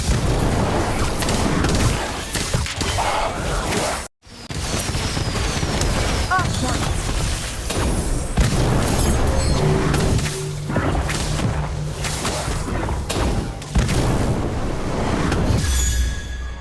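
Fiend fire spell cast in Harry Potter: Magic Awakened, a dense roaring, crackling blast with rumbling bursts sustained over a loud game soundtrack, briefly cutting out once before surging back.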